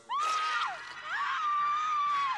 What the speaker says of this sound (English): Hope you don't get scared when I scream and have night terrors.